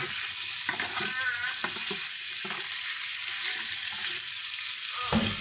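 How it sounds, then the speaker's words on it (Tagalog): Sayote and tofu being stirred in a pan, with a steady sizzle of frying running throughout and utensil scrapes and clinks scattered over it, close and fairly loud, with no talking. "Haluin mo lang ito ng haluin. Hanggat na maluto itong ating gulay."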